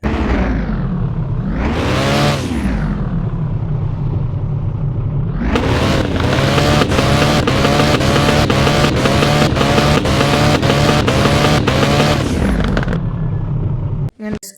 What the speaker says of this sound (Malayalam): എനിക്ക് ഈ മസ്റ്റാങ്ങിൽ ഏറ്റവും കൂടുതൽ ഇഷ്ടപ്പെട്ടത് ആ സൗണ്ട് തന്നെയാണ് ഗൈസ്